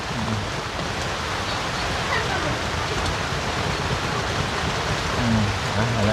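Rain falls in a steady, moderately loud hiss that continues evenly throughout, with faint scattered background sounds beneath it.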